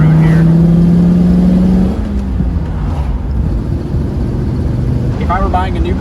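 A 1936 Ford with a flathead V8 engine drives along a road, its engine droning loudly and steadily with rushing wind noise, the pitch dropping as it shifts or eases off, while a voice is faintly audible.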